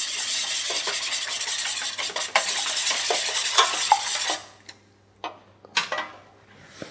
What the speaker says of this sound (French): des œufs entiers, un peu d'huile, sel et poivre, battu en omelette, tout simplement